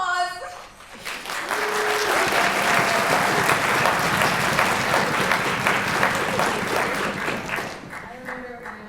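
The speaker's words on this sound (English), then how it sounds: "let's make sure that we give them a big round of applause" A high school audience at a Palisades High School orchestra winter concert applauds the concert orchestra with a big, sustained round of clapping that swells quickly and fades near the end, with brief voices at the edges.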